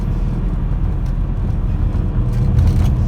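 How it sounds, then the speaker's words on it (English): A BMW 335i with a swapped N54 single-turbo engine runs steadily, a dense low rumble close by that holds even for a few seconds with no voices. "You guys can see and hear the car running good."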